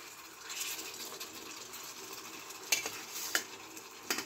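Duck egg poaches going into a pan of simmering masala, with a steady soft sizzle broken by a few sharp clinks and scrapes of a utensil against the pan.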